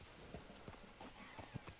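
Horse hooves clip-clop at a walking pace in a PS4 video game, a handful of soft, uneven hoof falls close by against a faint background bed, with no talking.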